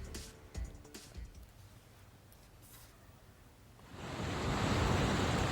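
High sea waves and strong wind batter the Mumbai shoreline during Cyclone Tauktae, starting as a fainter gusty rush and then swelling into a loud, continuous roar of surf in the final seconds.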